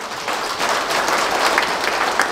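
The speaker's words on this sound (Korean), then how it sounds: "박수 한 번 더 쳐주시고" A crowd at a commemoration ceremony marking the 58th anniversary of Vietnam War service applauds loudly in a dense, continuous wash of clapping that lasts throughout.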